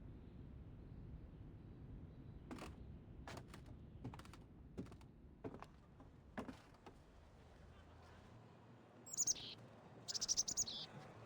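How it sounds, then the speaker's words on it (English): Short bird chirps sound twice near the end, bright and high, over a quiet background with scattered clicks and soft taps. "The lilting sound of a bird reaches her ears from above."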